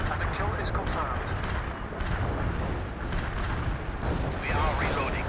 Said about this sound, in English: The artillery strike hits the enemy